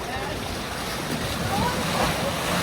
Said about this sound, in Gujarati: તો આ મોજા તો ચાલુ થઈ ગયા છે.